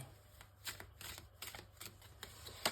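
Tarot cards are handled for a nine-card spread, giving a quiet, close series of crisp flicks and snaps of cards being shuffled and laid down, irregular and faint.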